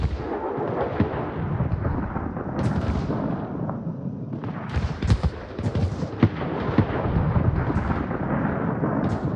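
An artillery fire-support barrage strikes in a video game clan battle. Heavy booms land one after another at irregular intervals, some sharp and near and others rolling and distant, over a constant low rumble.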